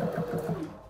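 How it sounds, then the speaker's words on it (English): A sewing machine stitches an elastic band onto a sleeve, giving a short run of quick, even mechanical pulses that is close and clear, then trails off. "So I'm gonna install a stretchable elastic band. So I'm going to sew here."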